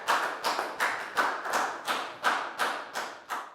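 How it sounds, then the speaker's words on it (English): A small group of classroom students claps in unison for a classmate, about nine distinct, evenly spaced claps in a steady rhythm, close and clear with no talking. "a big round of applause for Bangpon,"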